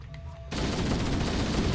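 Rapid gunfire in the Halo video game, a dense, loud burst of repeated shots that kicks in abruptly after a quiet moment and keeps rattling steadily to the end.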